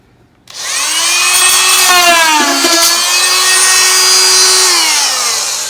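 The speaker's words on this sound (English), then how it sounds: "Let's switch to this. Cut that bottom portion out." A power saw, likely an oscillating tool, cuts through the bottom portion of a wood opening while a cold air return is being added, starting abruptly after a brief quiet and running as a loud, steady whine for several seconds.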